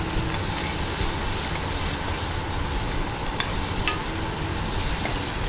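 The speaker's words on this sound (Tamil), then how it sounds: "தக்காளியிலேருந்து அந்த ஜூஸ் வந்துட்டு நல்லா இது பண்ணி வரும்போது, நல்லா மசிஞ்சு வரும்போது அது வரைக்கும் நல்லா வந்து நீங்கள் வதக்கிக்கோங்க" Tomatoes sauté in a pan for garlic kuzhambu, giving a steady, close sizzle as they are stirred, with a few sharp clicks from the spoon against the pan.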